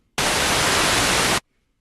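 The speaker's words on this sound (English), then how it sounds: "No, that's just white noise." A loud burst of steady white noise, hissing evenly across the full range, starts abruptly and cuts off after about a second.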